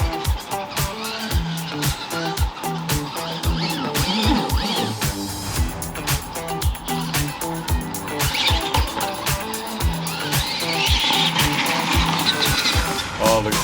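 Two RC trucks, a Bullhead and an SCX10 mega truck, drive around an outdoor compound in China, giving a close, loud, continuous buzz of electric motors and gears with repeated knocks and clatter from the tires and chassis.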